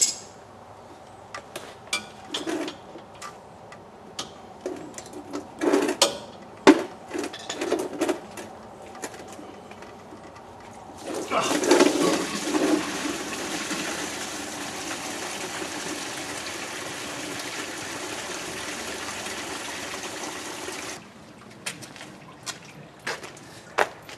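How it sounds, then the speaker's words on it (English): Coolant draining from the lower radiator hose of a 1999 Ford E-350 van, a steady gushing pour of liquid for about ten seconds, framed by scattered clinks and handling noises before and after. "I usually will drain it through the lower radiator hose and just undo that from the radiator"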